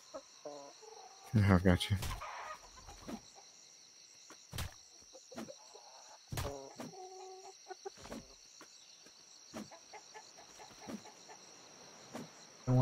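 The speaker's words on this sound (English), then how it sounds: "A lot of chickens, though." Chickens cluck in short scattered bursts from the video game Atlas, with a steady insect-like whine running underneath and a player briefly talking.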